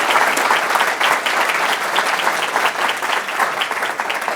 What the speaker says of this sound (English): Let's round of applause for this amazing panel